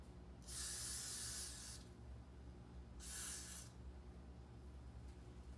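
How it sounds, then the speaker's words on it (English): Two short hissing bursts of an aerosol hair glue spray on a lace front wig, the first longer than the second, close by in an otherwise quiet room. "I'm just going to take some Got To Be Glue spray"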